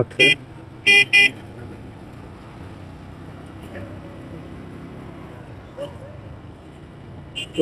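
Heavy town traffic hums and rumbles steadily, broken near the start by three short, loud car horn blasts in quick succession, then a couple of fainter toots later on.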